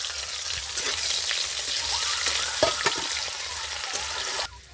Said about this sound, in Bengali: আমি এবার এর মধ্যে একটু পেঁয়াজ দিয়ে দিচ্ছি।